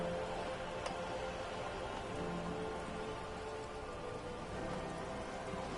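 Steady rain falls in a video game, a dense, even hiss of drops that runs unbroken throughout with no voices.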